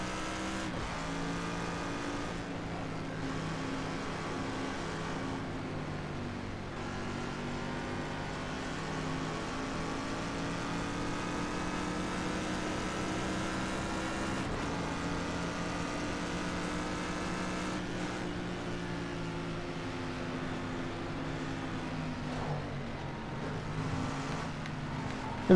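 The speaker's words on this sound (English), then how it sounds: "They're making some pretty fast cooldown laps." Race cars on a fast cooldown lap: a steady, continuous engine drone with shifting tones that swell and fade as cars pass, sustained at moderate loudness throughout with no pauses.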